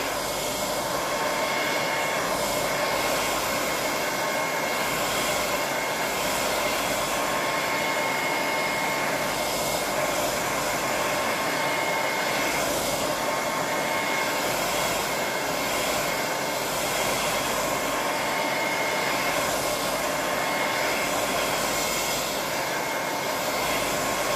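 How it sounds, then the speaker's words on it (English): A hair dryer blows steadily and loudly, close by, a continuous airy roar with a faint whine, running without pause and with no talking. "I'm going to use the hairdryer."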